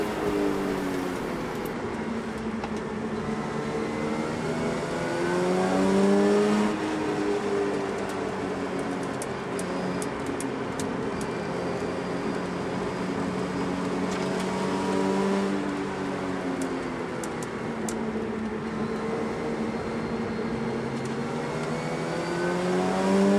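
A car lapping Winton race track on a track day, its engine loud and steady throughout, rising and falling in pitch as it accelerates and slows for corners, with no voices.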